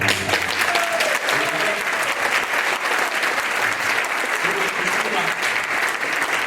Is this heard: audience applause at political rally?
yes